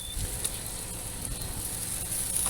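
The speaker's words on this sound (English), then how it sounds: "as you can see, the sizzle on there" Already-cooked BBQ ribs reheat on heat with a faint, steady sizzle and crackle close by, and nobody speaks.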